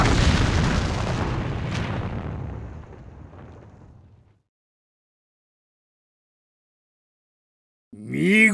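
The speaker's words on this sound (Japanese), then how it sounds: "敵機関大破、爆発します。" A big explosion of an enemy warship in the space game Galaxy Angel: Eternal Lovers, a loud booming blast that rumbles and fades over about four seconds, then silence before a brief synthetic sweep at the end.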